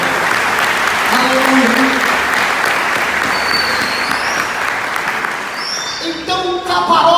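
A church congregation at a Yom Kippur service claps for the Lord in loud, sustained applause, with a voice calling out and brief vocal exclamations rising over the clapping near the end.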